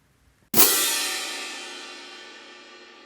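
A pair of hand crash cymbals struck together at medium loudness, one bright crash that rings out with a long shimmering decay, close and alone after a short silence.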